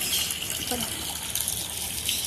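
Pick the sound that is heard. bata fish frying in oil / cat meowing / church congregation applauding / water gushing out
water gushing out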